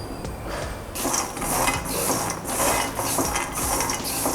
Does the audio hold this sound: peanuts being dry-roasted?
yes